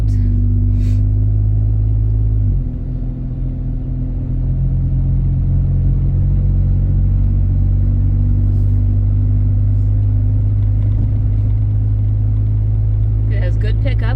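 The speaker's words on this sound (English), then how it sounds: "with the exhaust code, you're going to have a little bit louder exhaust" A 2009 Pontiac G6 with a loud exhaust drones steadily from inside the car while driving, the low engine hum briefly dipping as it shifts. A person speaks over it.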